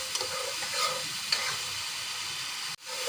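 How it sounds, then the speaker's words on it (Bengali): Spices stir-fried in a pan for aloo ghati give off a steady, dense sizzle with faint scraping from stirring, close and constant, cut off abruptly near the end. "এই যে মশলা কষাচ্ছি আমি"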